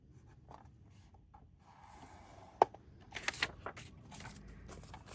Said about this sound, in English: I'm basically just scoring it in the same place for everyone so that my envelopes are uniform